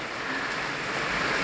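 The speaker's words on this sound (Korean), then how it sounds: "오늘 비가 많이 많이 옵니다." Heavy rain falls steadily over a wildflower nursery on a wet summer day, a dense, even hiss with no breaks and no voices.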